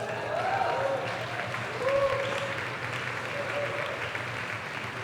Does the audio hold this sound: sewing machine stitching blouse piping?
no